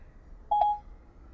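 A Pioneer SPH-DA120 car head unit gives its message-sent signal: a single clear electronic tone lasting about a third of a second, sounding close and alone in a quiet car, with a faint click at the end.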